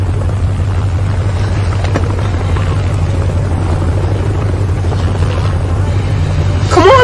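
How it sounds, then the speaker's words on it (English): A helicopter's low, throbbing rotor drone holds steady and loud throughout as a classic car races it in a film scene, with a sharp rising screech breaking in at the very end. "She takes her classic car and plays chicken with a helicopter."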